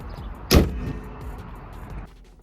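A single solid thump of a car door shutting on a RAM 1500 pickup truck, close and loud, followed by a muffled interior hush.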